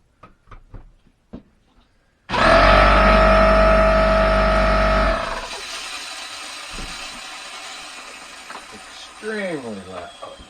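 A Craftsman 6-gallon single-stage portable electric pancake air compressor starts abruptly with a loud, steady motor roar, runs hard for about three seconds, then drops to a lower continuous hum. Light handling knocks come before it, and faint talk follows.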